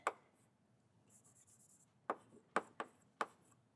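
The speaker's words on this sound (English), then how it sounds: "So let me write it down." Chalk or marker writing on a board during a quantum field theory lecture, a quiet run of scratchy strokes with sharp taps and pauses between short bursts, close and otherwise near silent.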